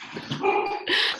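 A dog barks a few times close by, sharp yips and barks with some growl, interrupting a person at home during a remote talk.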